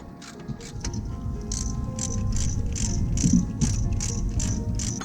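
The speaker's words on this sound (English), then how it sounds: "locate the bolts and get them tightened up" Caliper bolts being tightened on a Land Rover Discovery 3 brake, with a rapid rhythmic ratchet clicking in repeated bursts, close and fairly loud.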